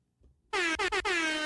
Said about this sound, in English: asked explicitly to have the air horn things removed because it's cliche